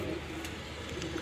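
Breeder pigeons kept for pigeon racing in Pakistan coo softly and steadily, a faint low murmur with no talking.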